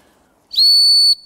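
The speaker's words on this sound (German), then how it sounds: "Dann habe ich hier eine Pfeife." A handheld emergency whistle gives one loud, piercing, steady blast of about half a second that starts sharply after near silence and cuts off cleanly.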